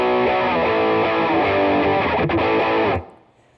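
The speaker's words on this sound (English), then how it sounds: "Second stage, more distortion." A guitarist strums an electric guitar through a second-stage distortion pedal on his pedalboard, giving thick, sustained, overdriven chords that ring loudly for about three seconds before cutting off into a quick fading tail.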